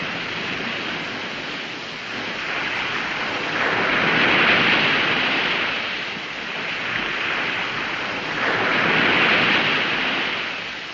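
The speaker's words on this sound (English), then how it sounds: "You like the sound of the ocean?" Ocean waves roll in a steady wash of surf, swelling and receding in slow surges about every five seconds, loud and continuous with no voices.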